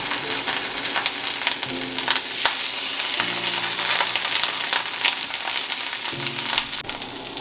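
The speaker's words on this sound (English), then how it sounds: "now that we have our pan nice and hot, I'm gonna put skin side down first" Pecan-crusted trout fillet sears skin side down in a hot pan, giving a loud, continuous sizzle and crackle with occasional scraping and clicks from the pan.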